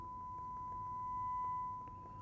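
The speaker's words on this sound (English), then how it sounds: "Here is the 1 kilohertz tone." A 1 kHz test tone from an XVIVE AT-1 signal generator holds as a single steady pure pitch, quiet and unbroken, over a low background rumble.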